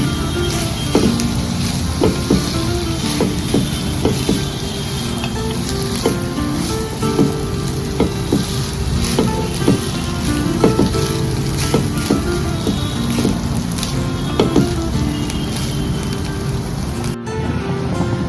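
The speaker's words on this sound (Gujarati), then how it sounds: "હવે આપણે આપણા સ્ટીમ રાઈસ છે એ નાખી દઈશું. બરાબર મિક્સ કરી લઈશું." Steamed rice being tipped into a hot pan of blue butterfly pea flower rice and stirred, giving a steady close sizzle with scattered scraping and clinking from the stirring, broken by a brief pause near the end.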